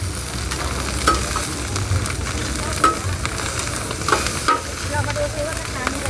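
Mussel pancakes being stir-fried in a big wok at a busy food stall: a steady, loud sizzle runs throughout, with the scrape and clack of a spatula against the pan at irregular moments.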